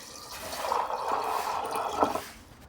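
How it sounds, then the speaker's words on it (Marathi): Water poured into a pressure cooker holding overnight-soaked kidney beans for rajma: a faint, close trickle and splash that runs steadily for about two seconds, with no talking. "ह्याच्यात आपल्याला पाणी घालायचं आहे"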